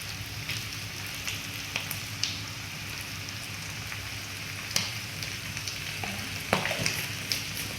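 Pork belly seasoned with turmeric and salt frying in a pan, giving a steady crackling sizzle with scattered sharp pops and occasional stirring scrapes, close and fairly quiet, with no talking.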